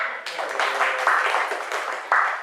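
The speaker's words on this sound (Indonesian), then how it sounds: "Boleh tepuk tangan?" A crowd at a school literacy event claps together in a steady burst of applause, the sound full and close without a break.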